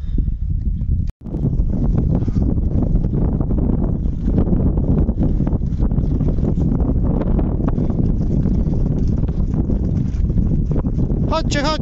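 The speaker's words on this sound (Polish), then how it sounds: "wiatr wieje mocno" Strong wind buffets the microphone in loud, continuous rumbling gusts on a cattle farm, with a person calling the cattle over it.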